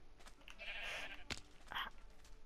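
Blocky video-game sheep bleating in quick short calls, a couple of close, clear bleats with a brief click between, fairly quiet overall.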